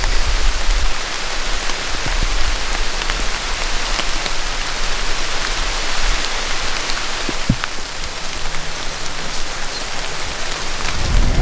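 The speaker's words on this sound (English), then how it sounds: "We waited for the rain to let up a little bit before we headed out." Heavy rain pours steadily outdoors on public land in Wisconsin in October, a dense continuous hiss with scattered louder drips and taps close by.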